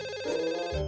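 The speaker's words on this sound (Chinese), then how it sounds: "喂，电话响了。" An indoor telephone rings, a brief continuous electronic tone at moderate level with no talking over it.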